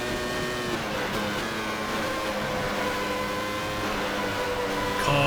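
1996 Tyrrell F1 race car in Automobilista at Albert Park, its high-pitched engine whine held steady and loud for several seconds, with a brief swell near the end.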